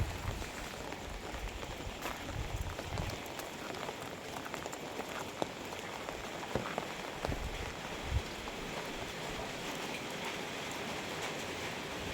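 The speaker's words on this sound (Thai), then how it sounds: "นตกน้ำไหลตามถนน" Continuous rain falls at night with a broad hiss and occasional drops, water rushing steadily along the road beneath it.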